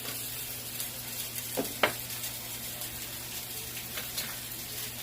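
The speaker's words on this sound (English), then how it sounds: "My spaghetti is boiling" Spaghetti boiling in a pot gives a steady close bubbling hiss with a low hum beneath and a couple of soft knocks; no voices.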